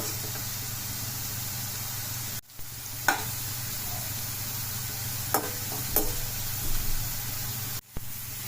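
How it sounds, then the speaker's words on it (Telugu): Thin slices of bitter gourd fry in hot oil, giving a steady, even sizzle with a few soft pops and stirs; no one talks over the continuous crackle. "చూడండి మంచిగా ఫ్రై అవుతున్నాయి అన్నీ."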